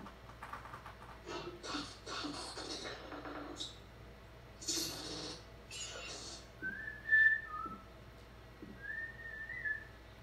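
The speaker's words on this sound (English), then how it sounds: "You guys can probably hear me whistling." Someone whistles a few short, clear tones near the end, after quieter breathy sounds and shuffling in a quiet room.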